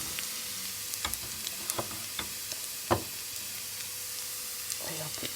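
Oyster juice with a shallot reduction simmers down in a pan with a steady, hissing sizzle, with occasional soft clicks and pops scattered through it.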